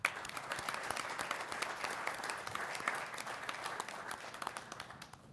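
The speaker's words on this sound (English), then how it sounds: "So let's have a round of applause for Wyatt Hinton." Applause fills a board of education meeting, a steady crowd clapping that holds at an even level for about five seconds, with no talking over it.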